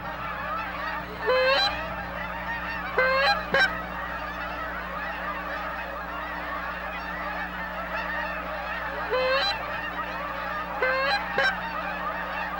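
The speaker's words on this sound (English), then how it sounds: "there's so many geese in the area" Geese honk in an open field near Winnipeg, Manitoba, during waterfowl scouting: several short bursts of calls at moderate distance over a steady low background hum.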